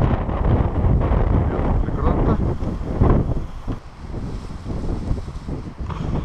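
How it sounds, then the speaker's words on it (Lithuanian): Strong wind gusting on a lake shore while setting up for eel fishing, with heavy buffeting rumble against the microphone that rises and falls over several seconds, no clear speech. "Va, toks vėjas stiprus."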